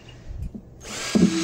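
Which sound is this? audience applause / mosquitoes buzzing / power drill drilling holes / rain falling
power drill drilling holes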